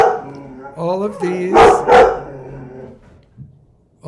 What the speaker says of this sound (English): I've been trying to work around my new little Anatolia shepherd puppy, but it's going to drive me nuts